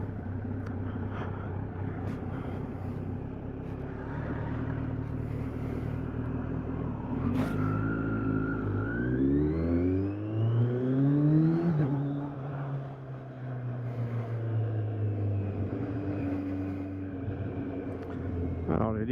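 Kawasaki Z900 motorcycle with a Leo exhaust, recorded on the move with a small action camera mic: a steady engine drone that rises in a sharp rev around the middle, then settles back into cruising, with wind noise throughout.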